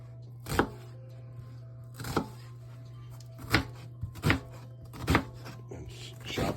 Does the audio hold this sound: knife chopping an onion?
yes